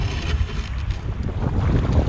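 Steady gusting wind roars across the microphone on choppy open water during kayak fishing in central Queensland, with a continuous low rumble and buffeting that fills the whole stretch, loud and close, with no voices.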